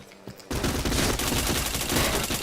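Rapid bursts of gunfire from a shooter video game break in abruptly after a short quiet moment, then run on as a loud, dense, continuous rattle of shots.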